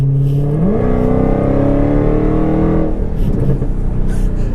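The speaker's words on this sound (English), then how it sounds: "as soon as you get into it, there's no stopping this. This car just pulls and pulls." A Hellcat car's engine roars loud and close as it accelerates hard, its pitch climbing steadily in one long continuous pull with no talk over it.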